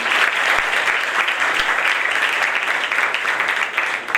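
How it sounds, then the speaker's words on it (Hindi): Loud, sustained applause from a church congregation at an anniversary service in Karachi, dense steady clapping filling the whole span. "एक बार पास्टर जी के लिए और बुआ जी के लिए जोरदार तालियां।"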